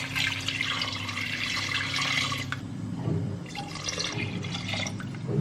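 Water pours steadily into a cooking pot with a continuous splashing, filling rush, briefly changing in tone midway as the flow shifts, heard close up with no talking.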